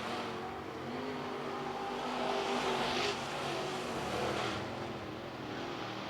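Late model race cars run a feature at Carolina Speedway, their engines droning and roaring together in a sustained, fairly distant mass that swells as the pack passes and then eases back.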